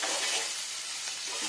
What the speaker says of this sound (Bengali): এবার আমি এটাকে হোয়াইট অয়েল দিয়ে ভেজে নেবো, লবণ দিয়ে